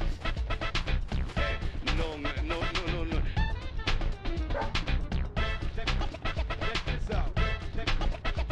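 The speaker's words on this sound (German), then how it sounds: "Ein echter Polizeihund." A police dog in the video game Deadly Premonition barks and yips in quick loud bursts, close and repeated throughout, with whimper-like sounds between them.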